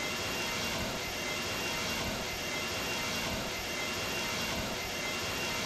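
A jet airliner's engines roar in Microsoft Flight Simulator X on a flight from Bari to Catania, a steady broadband rumble and whine held evenly throughout.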